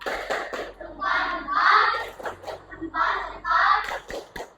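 Primary schoolchildren in a fifth-grade classroom give a rhythmic patterned clap, sharp hand strikes in short bursts alternating with group chanting voices.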